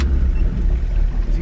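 A motor boat idles and churns on open water off Wathumba Creek, Fraser Island, a steady low rumble of engine and water noise filling the short stretch at close range, with no talk over it.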